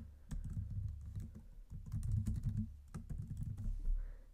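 Quick bursts of keystrokes on a computer keyboard as a webhook block gets named in a Mailchimp automation, soft close-up clicking in irregular runs with short pauses, no talking.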